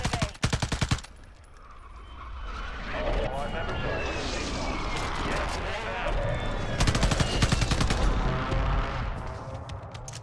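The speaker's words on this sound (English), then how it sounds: "Friendly mortar strike on the way." Gunfire and heavy impacts from a friendly mortar strike in Call of Duty, with rapid bursts of shots at the start and again near the end, booming rumbles and aircraft noise in between, loud and busy.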